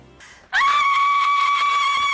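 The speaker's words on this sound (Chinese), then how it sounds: "尖叫几乎让我失聪" A woman lets out a sudden, piercing scream during a televised interview show. It is very loud and sustained, rising sharply after a brief murmur and holding at full force to the end.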